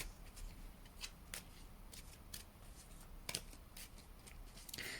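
Tarot cards are shuffled and drawn near the microphone, with a few sharp riffles and snaps scattered among soft sliding sounds at low volume.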